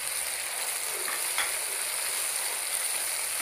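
Masala of salt, coriander powder, turmeric powder and crushed red chilli sizzling steadily in hot oil, a dense continuous frying hiss with faint scraping of stirring, close and alone.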